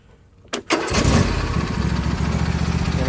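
A Husqvarna riding lawn tractor, back on the ground with its parking brake set, cranks briefly and then catches, settling into a steady, close engine idle that runs alone.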